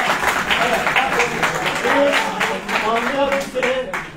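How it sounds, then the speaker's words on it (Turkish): An audience applauds during a reading-society presentation at a high school in Ataşehir. Steady clapping continues for about four seconds, mixed with voices and cheering. "Dünyanın en çok kitap okuyan devlet adamı Atatürk'ü alkışlıyoruz"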